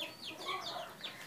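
Chickens in a homemade chicken house cluck softly, with a few overlapping short calls close by at low volume.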